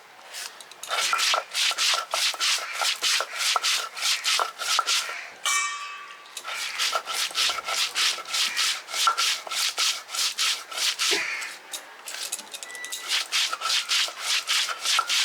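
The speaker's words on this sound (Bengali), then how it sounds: "এখন খুব সুন্দর করে বাটাই বেটে নেব।" Cumin, coriander, pepper, cardamom and cloves being ground on a grinding stone: steady rhythmic rasping strokes, close and continuous, with one short pause partway through.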